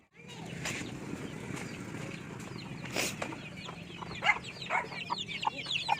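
Native chicks about three weeks to two months old cluck and peep at close range, a busy flock chatter with sharp calls growing denser toward the end.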